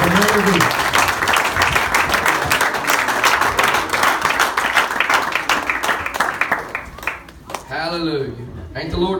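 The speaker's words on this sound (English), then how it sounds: "Take that hand clap" A church congregation claps together in a loud, dense burst that lasts several seconds. The clapping thins out near the end as a voice begins speaking.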